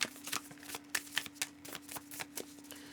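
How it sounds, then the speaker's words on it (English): Tarot card decks being shuffled nearby, a run of soft papery riffles and flicks in uneven bursts, faint and close with a steady low hum underneath. "All these decks were shuffled up relatively nicely as well."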